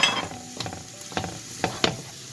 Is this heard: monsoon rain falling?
no